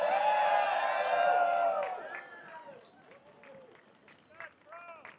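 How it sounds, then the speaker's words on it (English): A crowd at a letter carriers' union rally in Minneapolis bursts into loud cheering and whooping, then fades to scattered shouts and whoops that keep rising over the quieter crowd. "Let's give him a round of applause."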